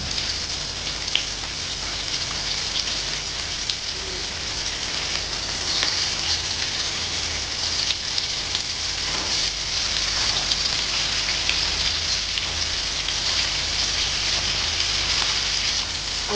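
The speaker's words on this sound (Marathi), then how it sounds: "छान असा क्रिस्पी आपला बांगडा फ्राय झालेला आहे" Rava-coated bangda mackerel frying crispy in a pan, a steady dense sizzle and crackle of hot oil that runs continuously and fairly loud throughout, with no talking.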